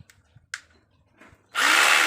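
A three-function rotary hammer drill spins up after a few soft handling knocks and clicks, its motor whirring loud and steady at close range for the final half second, with no talk.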